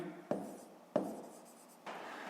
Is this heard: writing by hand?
yes